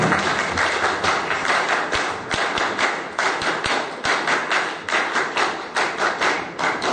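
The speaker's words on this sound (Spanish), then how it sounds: "Vamos a recibir con fuertes aplausos, compañeros, fuertes aplausos" Loud, dense applause from an audience at a Peruvian ceremony marking the 1979 Constitution's anniversary, steady clapping throughout with a few heavier thumps, no voices over it.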